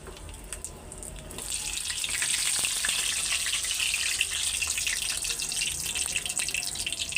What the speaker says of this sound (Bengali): আর শাক বাগার দেওয়ার আগে সামান্য কটা শুকনা মরিচ ভাইজা নিব